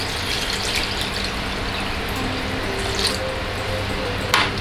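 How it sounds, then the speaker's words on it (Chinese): Clean water is poured into a container of seeds after draining, a steady running gush with a faint splash near the end, close and fairly loud with no talk. "再倒入清水"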